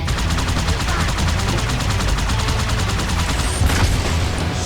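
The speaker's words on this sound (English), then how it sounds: "Someone is shooting at me" Dense, loud automatic gunfire from the video game Halo 2, a fast steady stream of rapid shots filling the whole stretch without pause.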